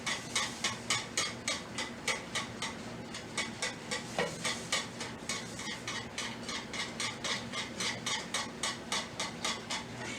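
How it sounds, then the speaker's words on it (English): A whisk beats grits in a pot with quick, steady rhythmic clinks of metal against the pan, close and evenly paced throughout. "I do want to go ahead and whisk it really good so that we don't have those lumps"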